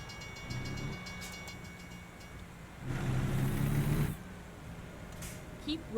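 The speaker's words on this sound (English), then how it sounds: "I hear a train." A train rumbles past a truck in American Truck Simulator, the rolling rail noise swelling to a louder burst midway and then fading under the truck's steady engine.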